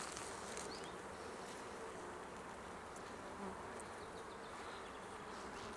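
Honey bees swarm around an open hive during a spring inspection, a dense, steady buzzing drone that fills the whole stretch close by, with no talking over it.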